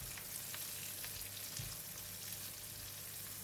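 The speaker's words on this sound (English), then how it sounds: "Add in the cut chilli and stir." Chilli, shallots and curry leaves sizzle and fry steadily in hot oil, a continuous close crackle with faint stirring, no voices.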